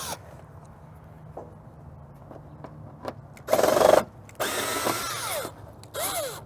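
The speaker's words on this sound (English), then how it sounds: "I'm gonna use my trusty drill. So we'll just take these out." A power drill removing screws whirs in several short bursts, loud and close, with quieter clicks and handling noises between the runs.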